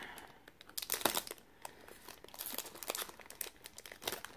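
A package is cut open and its plastic wrapping crinkled and torn, giving close, irregular bursts of crackling and tearing noise over about four seconds with no talk.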